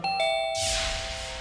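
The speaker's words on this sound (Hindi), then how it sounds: "फिर अचानक से घंटी बजी।" A doorbell chimes with clear ringing tones, followed by a second longer ding that rings out and slowly decays, with no talking.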